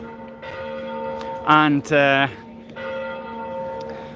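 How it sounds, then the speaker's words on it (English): Church bells ring in Wrocław, their tolling strong and resonant, with a short louder burst in the middle and a brief spoken word over the ringing. "the church bells may actually make more sense"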